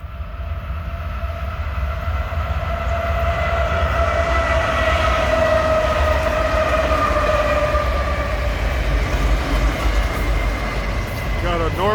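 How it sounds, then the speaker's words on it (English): A northbound BNSF intermodal freight train rolls past in the Cajon Pass, a broad steady rumble with sustained wheel squeal and tonal whine that swells toward the middle, loud and continuous throughout. "BNSF Intermodal heading north out of the Cajon Pass,"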